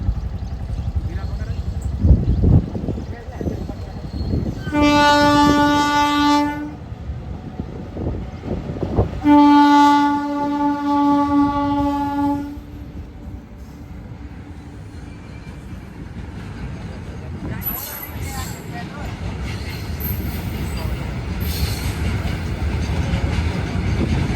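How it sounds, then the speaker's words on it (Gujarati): Trains passing close by, with two long, loud horn blasts, each lasting a few seconds, over the heavy rumble and clatter of rolling wagons, while people talk nearby. "એ બાજુથી ટ્રેનો આવે છે"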